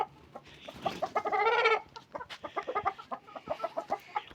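Black chickens and a rooster on a farm in Andijan cluck close by, with one drawn-out squawk followed by a string of quick, choppy clucks, fairly loud and with no voices.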